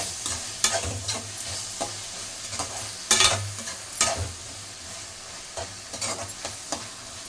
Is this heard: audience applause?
no